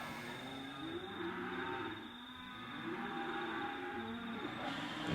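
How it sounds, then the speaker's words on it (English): Cattle moo at night near a rooftop tent, with low, drawn-out calls rising and falling over a steady background hum and no one speaking. "I'm gonna put up with these damn cows all night."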